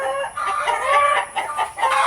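Several free-range farm chickens cluck and chatter close by in a steady, overlapping stream of short calls, with no talking.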